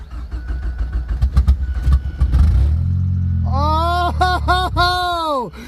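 A Ford Probe running on a standalone ECU cranks and fires up, a loud churning start that catches into a rough, revving engine note that rises and dips, with voices talking over the cranking.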